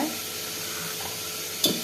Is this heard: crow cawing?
no